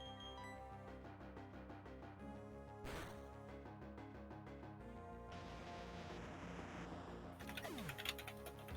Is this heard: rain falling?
no